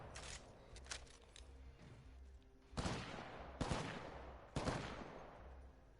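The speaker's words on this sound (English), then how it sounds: "Let's just try and shoot with the hipfire" Hipfire gunshots in Apex Legends, three sharp loud bursts spaced about a second apart after a quieter stretch of faint game noise and ticks.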